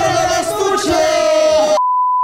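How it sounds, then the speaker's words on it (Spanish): Crowd shouting together in unison, a loud sustained roar of many voices that ends abruptly, followed by a steady censor beep tone. "Repeguen sus pinches cuerpos y gritamos todos juntos."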